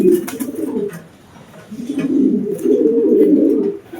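Racing pigeons coo up close in two soft, throaty rolling phrases separated by a brief lull.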